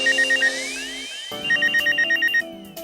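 A phone rings with a bright electronic melody, repeating its trilling tone pattern twice, loud and close, with no voices.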